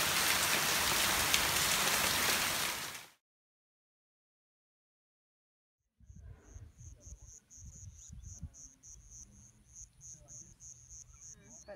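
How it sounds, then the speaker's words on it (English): Heavy rain pours down in Kenya as a loud, dense roar for about three seconds, then cuts to silence; afterward softer patter and a steady high insect chirping take over. "Well, we are getting dumped on. This is a lot of rain to piece up."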